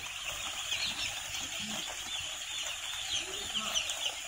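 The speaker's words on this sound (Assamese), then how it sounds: "তো এয়া প্ৰায় 1200 ওচৰা-ওচৰি ইয়াত পোৱালি আছে।" About 1,200 broiler chicks on their first day in a poultry shed cheep continuously as a high, busy chorus, fairly faint, with scattered individual peeps standing out.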